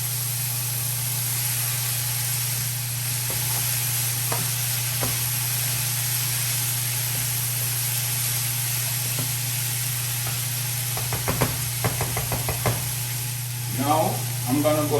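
Shrimp chow mein noodles sizzle and stir-fry in a hot pan, making a steady loud hiss over a constant background hum, with a few clattering stirs and scrapes toward the end.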